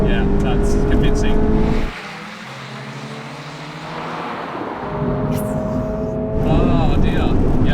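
A Subaru BRZ and a Mazda MX-5 accelerate hard in a drag race, engine roaring loud and close with rising revs, a gear-shift dip, then climbing again, heard from inside the car with voices over it.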